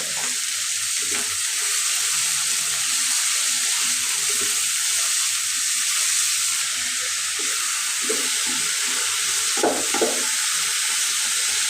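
Sliced bitter gourd fries in oil in a pan with salt and turmeric, a steady sizzle under occasional soft scraping strokes of stirring, with a few louder knocks near the end.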